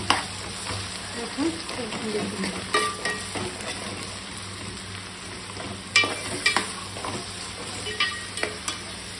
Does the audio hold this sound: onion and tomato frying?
yes